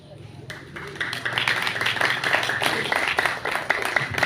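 An audience at a school poetry reading event applauds the reader Habibillah, a steady wash of clapping that builds and continues for several seconds, with some voices mixed in.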